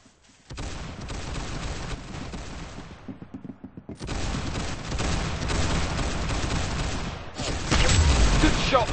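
Video game gunfire from a first-person shooter, loud sustained bursts of rapid shots with a short break of separate cracks midway, then heavier firing resumes near the end.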